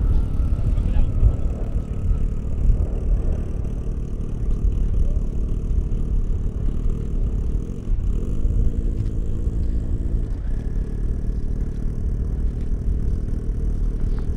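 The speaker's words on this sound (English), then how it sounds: "Hard to beat the sweet sound of that Aventador." A Lamborghini Aventador at an airstrip drag event rumbles low and steady at a distance, with a brief rising rev partway through.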